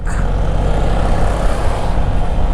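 A Honda ADV 150 scooter with a 175cc, 62 mm big-bore build, stock cams and stock exhaust pipe, held at a loud, steady high-rev drone close by, heavy and continuous throughout.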